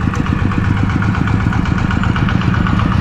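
A walking tractor engine idles loud and close, a steady rapid chugging thump that holds an even rhythm throughout with no talk over it.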